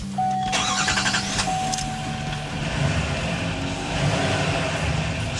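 A 2020-2023 GMC Sierra 2500 with the 6.6L Duramax and a cold air intake cranks briefly with a high starter whine, then catches and settles into a steady, close, rumbling idle.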